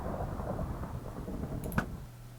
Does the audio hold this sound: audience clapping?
no